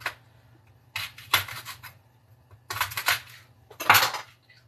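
A knife works around the root of a head of cabbage, producing several short crunchy cutting bursts with quiet pauses between them, close by with no talk.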